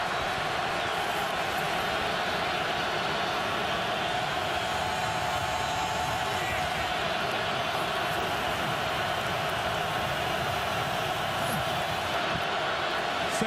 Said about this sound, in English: Wait till you hear this eruption from this crowd.